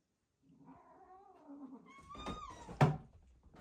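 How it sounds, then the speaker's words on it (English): An orange cat lets out a drawn-out, wavering caterwaul with rising and falling yowls over about three seconds, close and fairly quiet, ending in a sharper louder cry. "This cat isn't gonna stay"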